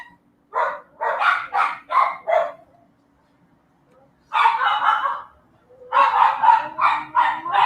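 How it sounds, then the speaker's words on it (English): Several dogs bark in repeated bursts, a quick run of loud sharp barks, then a pause, then another cluster and a further rapid volley. The barking sounds close and fairly loud, with no talking over it. "I'll try to wait for the dogs to shut up"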